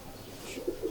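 Red-eyed pigeons at a loft in Wassanpura give a couple of soft, brief coos, fairly faint and close, over a quiet background.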